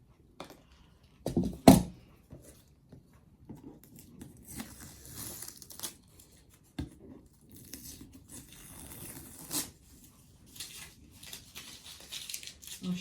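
Dolls house building material being cut, with a sharp snip near the start followed by soft crinkling, tearing and rustling handling noises, close and quiet, with brief pauses between.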